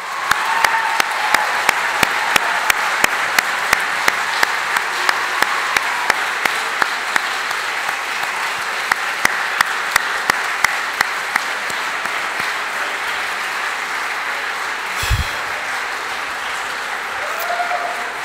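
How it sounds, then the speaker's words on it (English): An audience at a sports awards night gives a long round of applause, a sustained broad roar of clapping with a few sharp, regular claps standing out near the front, continuing with no talk and fading slightly toward the end. "we'll give Arthur a bit of a round of applause"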